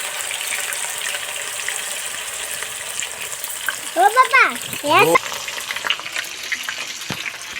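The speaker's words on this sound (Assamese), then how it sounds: "এতিয়া আমাৰ বনাবলৈ আৰম্ভ কৰিছে আৰু পিঁয়াজ দিছে" Onions frying in a pan, a steady close sizzle and hiss running throughout, with a voice briefly rising over it midway.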